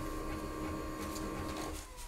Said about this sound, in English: Make sure you have again some paper inserted here, because the printer will print some information.